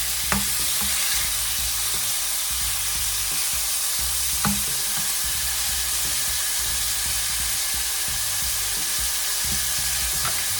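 Turkey strips and mixed vegetables sizzle and fry in a pan while being stirred, a loud steady hiss with occasional faint clinks of the utensil against the pan.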